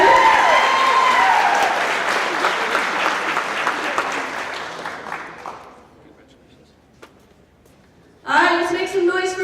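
An audience at a workplace celebration gives a loud round of applause that swells, fades out to near silence, then bursts up again with clapping near the end.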